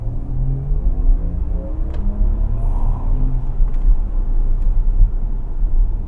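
Inside a Porsche Macan 4 EV electric SUV taking corners, a steady, loud low rumble of road and tyre noise fills the cabin, with faint higher ticks and no voices.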